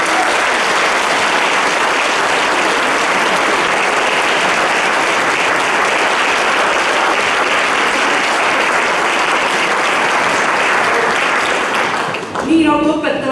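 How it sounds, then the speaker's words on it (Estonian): A school audience at a Sindi Gymnasium anniversary concert applauds the children's singing and their piano teacher, a dense, even wash of clapping that runs loud for about twelve seconds before a voice cuts in at the very end. "Teeme aplausid."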